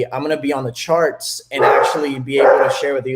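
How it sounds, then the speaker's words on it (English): Puppies and dogs bark and yip close by indoors, in short bursts under a man's continuous speech. "Sorry for the dogs over here."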